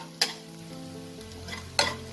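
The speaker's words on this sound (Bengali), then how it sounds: "এটাকে আমি 30 সেকেন্ডের মতো তেলে নাড়াচাড়া করে নেব।" Chopped garlic stirred in hot oil in a pan for chicken manchow soup, giving a soft steady sizzle with two distinct utensil scrapes against the pan and a low hum underneath.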